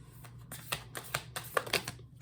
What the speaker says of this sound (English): making you sit and watch me shuffle